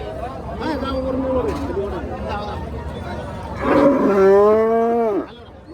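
Cows low at the Ghodegaon cattle market: a drawn-out moo early on, then a louder, nearer bellow of about a second and a half. People chatter and talk throughout.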